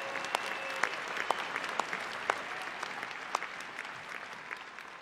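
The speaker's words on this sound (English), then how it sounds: "give yourselves a round of applause for the enormous," Scattered applause from an audience at a Nu Skin Live event, fairly faint and diffuse, with sharper individual claps popping out at irregular intervals.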